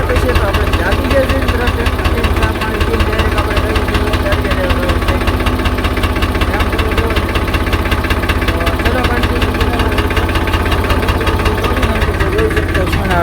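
A tractor engine idles steadily with a constant low, rumbling drone and a slight knocking throb that never lets up, while voices talk over it throughout.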